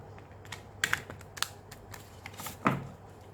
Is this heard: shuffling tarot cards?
yes